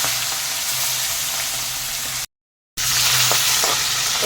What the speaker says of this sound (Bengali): তেল গরম হয়ে গেছে, হালকা করে একটু মাছগুলিকে ভেজে নেব